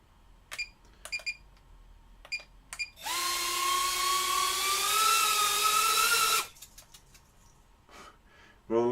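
Motors on a homemade drone spin up with a steady high-pitched whine for about three seconds, close and loud, framed by sparse clicks and taps before and after.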